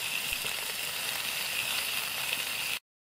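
Spam slices and pork bacon medallions sizzle and fry in a pan at a wild camp on Dartmoor, a steady close crackling hiss that runs evenly for almost three seconds and then cuts out abruptly.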